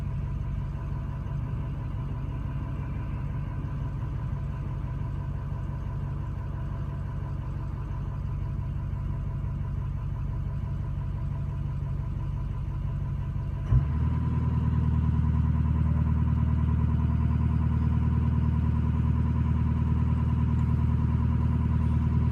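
A 2006 car engine idles steadily during an EGR system diagnostic test, then at about the midpoint rises abruptly to a higher, louder steady rev that holds, close and continuous, with no talking.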